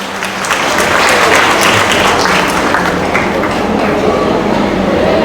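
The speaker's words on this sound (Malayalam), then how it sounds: "ഒരു കൈയടി നമുക്ക് കൊടുക്കാം." A large seated audience at a Kudumbashree women's stage event claps in a dense, loud, continuous burst that holds steady from start to finish.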